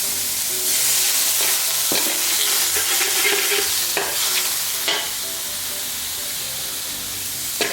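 Shrimp and jicama stir-fry over medium-high heat sizzles steadily in the pan, with scraping stirs and spatula clatters breaking through the hiss now and then; no one speaks.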